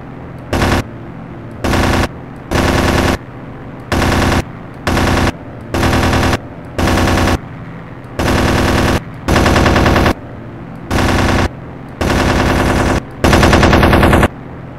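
Bursts of machine gun fire from a fighter plane in the Aces High 2 flight combat game, about a dozen loud, rapid rattling volleys separated by short silences, with no talking.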